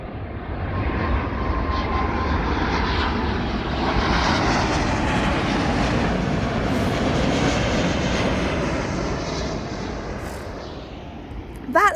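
Boeing 777-200ER airliner at London Heathrow, a loud, sustained jet engine roar that swells and holds for several seconds as the big plane passes close by, then slowly fades.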